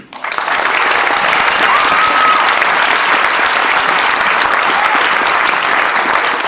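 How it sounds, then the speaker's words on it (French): A crowd claps in thanks for someone being honoured, a loud, sustained wash of applause that starts abruptly and holds evenly throughout, with no talk over it. "je vous demande de l'applaudir"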